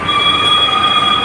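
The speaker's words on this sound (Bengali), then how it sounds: "এই ট্রেনটা কবি সুভাষ থেকে আসছে, এইটাই ব্যাক করবে আপাতত, এটাতেই আমরা উঠব।" A Kolkata Metro Orange Line train at the platform gives a brief, steady electric whine with sustained tonal hums over a low rumble, close and fairly loud.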